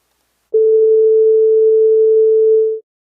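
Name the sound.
440 Hz sine wave tone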